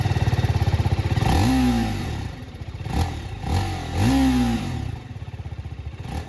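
A TVS Apache RTR 310 motorcycle engine is switched on and settles into a loud, close idle. Its throbbing beat is broken by several short, rising blips of the throttle.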